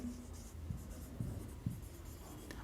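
A teacher writes on a board in a class, giving faint scratchy strokes and occasional taps against a quiet room background.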